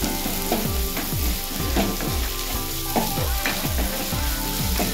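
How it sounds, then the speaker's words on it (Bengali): Onions fry in oil with cardamom, cloves and cinnamon, a dense continuous sizzle with bubbly crackling pops and rhythmic stirring scrapes, close and loud. "তারপর আমরা অন্য একটি কড়াইয়ের মধ্যে তেল, তিনটে এলাচ, তিনটে লবঙ্গ এবং দুটো দারচিনি দিয়ে এর মধ্যে পেঁয়াজ দিয়ে আমরা ভালো করে ভেজে নেব।"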